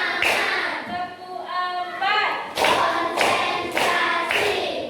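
Children in a classroom clap their hands in a counted clap routine, producing a few sharp group claps spaced apart, with a voice and teacher's talk in between.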